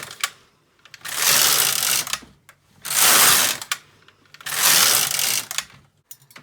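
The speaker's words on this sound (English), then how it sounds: "So then all I do now is knit 4 rows and hold." The carriage of a Needle Beetle II knitting machine sweeps back and forth across the needle bed in three long, loud mechanical passes, each a clattering whir of needles, with brief clicks in the short gaps between passes.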